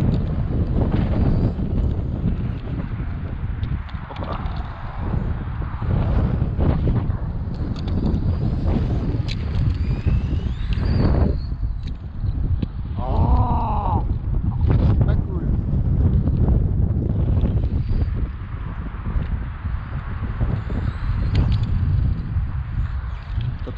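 Strong wind buffets the microphone in an outdoor parking lot, a loud continuous roar with gusts lasting the whole stretch, while a voice briefly calls out partway through.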